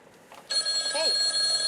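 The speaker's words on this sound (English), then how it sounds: "sorry about the phone call" A telephone starts ringing partway through, with a steady electronic tone that holds to the end, sounding at moderate volume in a room where a guitar is being built. Faint talk comes through beneath the ring.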